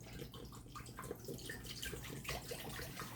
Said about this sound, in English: I'm going to pour 3 bottles of water into my pot